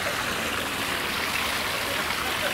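A fountain at an open-air mall in Madinaty, Egypt splashes in a continuous, even hiss of falling water, with no voices audible.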